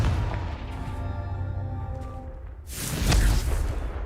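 A Confringo blasting spell goes off in Hogwarts Legacy, a loud burst with a whooshing crackle that swells and lingers over a steady hum of game music and ambience.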